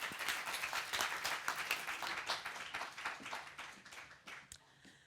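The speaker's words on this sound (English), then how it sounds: "Please give them a huge round of applause." A conference audience at a mobility and creativity forum in Slovenia applauds warmly: dense, continuous clapping that holds steady, then gradually thins and fades toward the end, with no speech over it.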